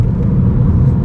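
A turbocharged Ford Fiesta Zetec S accelerating, heard from inside as a loud, steady low engine and road rumble with no distinct gear changes or voices.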